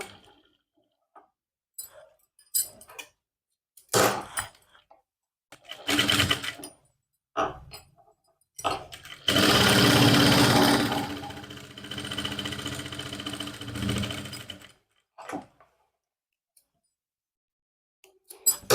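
A sewing machine stitches a rounded seam around a trouser pocket, running in short separated bursts and then one longer continuous whirring run before stopping.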